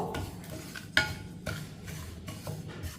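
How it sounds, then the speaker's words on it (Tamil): Kodo millet grains being dry roasted in a hot kadai, with soft scraping and stirring strokes and a few metallic clinks from the spoon against the pan, close and quiet. "ஒரு நிமிஷத்துக்கு கடாயோடைய சூட்டில் விறகரிசியை வறுத்துக்குருவோம்"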